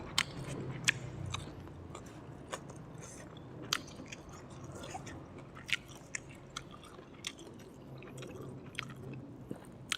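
Crunchy fried chicken eaten with sticky rice and a Thai pounded long-bean salad with fermented fish sauce, heard as repeated close bites, crisp crunches and wet chewing sounds, steady throughout with sharp crackly peaks.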